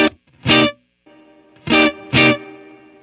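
An electric guitar played through a Fender Tone Master Pro modeling a '65 Deluxe Reverb amp sounds four loud, short strummed chords with brief ringing decay between them, close and alone.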